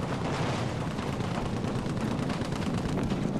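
Dense, continuous Battlefield V gunfire and rumbling battle noise, rapid overlapping shots blending into a constant heavy roar at moderate level, with no talking.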